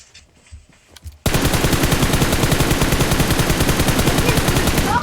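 Automatic weapon fire in the mobile game PUBG Mobile opens after a quiet second and becomes a loud, rapid, sustained burst of evenly spaced shots that runs to the end.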